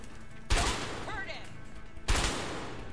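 Two loud gunshot bursts ring out in the video game A Way Out, one about half a second in and another near the two-second mark, each decaying into a ringing tail amid game sounds and brief tonal effects.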